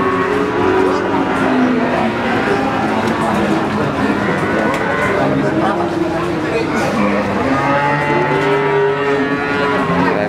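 Cattle mooing at the Imogiri cattle market in Bantul, several overlapping low bellows from animals close by, continuous against the busy market bustle and voices.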